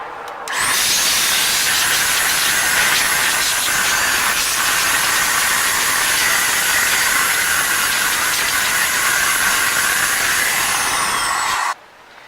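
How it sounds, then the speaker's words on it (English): A DataVac electric duster blows dirt out of the slots and fan grooves of a computer, giving a loud, steady, close air hiss that starts suddenly, holds for about eleven seconds and cuts off. "You're gonna make sure you stick this little data vac into these little slots to make sure all the dirt comes out."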